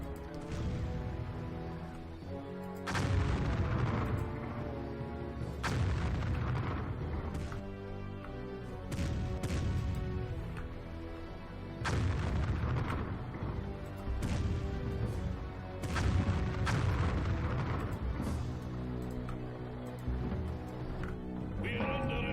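Napoleonic-era warships firing broadside cannon volleys in the strategy game Empire Earth, sharp crashing blasts repeating every couple of seconds over a steady musical backdrop.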